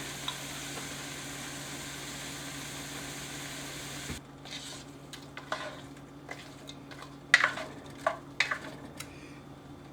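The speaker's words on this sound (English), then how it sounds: "We're going to cook the onions till they're kind of a clear color." Onions and garlic frying in a cast iron pan, a steady hiss that thins out midway, followed by scattered close clicks and scrapes of stirring, no talking.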